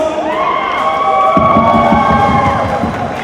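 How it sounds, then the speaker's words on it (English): A crowd of ladies and gentlemen cheers and applauds at a film event with a Sunny Leone dance performance, a loud, steady wash of noise across the whole span with tonal whoops over it. "Can we please have a big round of applause?"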